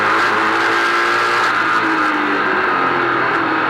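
Stock race car engine at a 2010 Keystone Light 200 race, roaring loudly and continuously as the motor pitch bends and shifts while the car runs around the track, with no talking over it.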